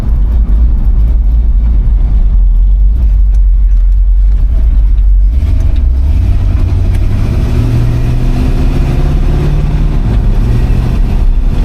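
A 1964 Chevrolet C20 pickup with a 327 engine drives along, its deep exhaust rumble loud and constant, the engine note rising through the gears with audible shifts and heavy road roar, no voices.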